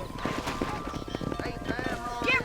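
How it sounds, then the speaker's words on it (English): Horse hooves clip-clopping in the video game Red Dead, a steady, fairly close trot of hoofbeats with a brief whinny, under game voices and ambient noise. "I hate this horse."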